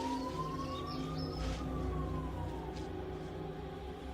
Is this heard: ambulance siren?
yes